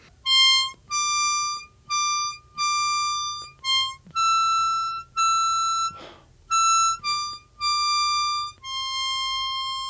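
Harmonica playing the last line of a song slowly with no bends: a string of clear sustained reed notes, each held then released with brief gaps, close and alone.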